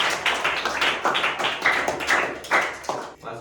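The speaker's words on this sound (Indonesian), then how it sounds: "Tepuk tangan untuk kita semua." A classroom of eighth-grade students claps together in a quick, rhythmic burst of sharp, close hand claps lasting a few seconds, with no talking.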